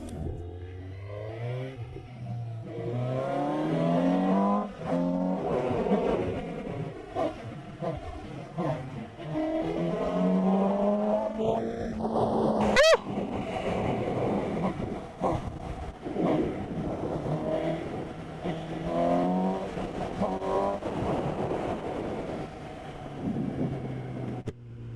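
Suzuki GSX-S750 motorcycle with full power being ridden away from a dealership after its 1000 km service, engine note rising and falling through gear changes, steady and close with wind noise, a loud spike midway.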